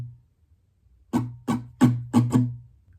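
After a moment of near quiet, an acoustic guitar strums five sharp, ringing strokes in a quick syncopated pattern for a song, close and unaccompanied.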